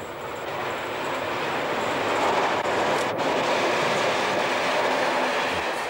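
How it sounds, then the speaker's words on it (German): A train runs through an abandoned border station without stopping, a loud, steady rolling roar with wheel clatter that swells as it passes close by, with no voices. "Ohne Halt fahren die Züge jetzt durch."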